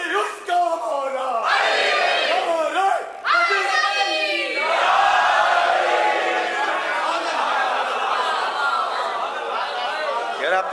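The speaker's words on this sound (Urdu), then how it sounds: "آپ تو کمال نعرے لگاتے ہیں" A large crowd at a live religious gathering in Bangalore, India, chants slogans loudly in unison, voices rising and falling in repeated waves that fill the whole stretch without pause.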